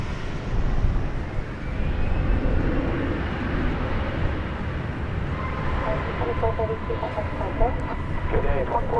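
A Boeing 737-800 arriving at DFW Airport on a flight from Querétaro, Mexico, a steady broad jet roar that swells and holds at moderate distance, with a voice talking over it.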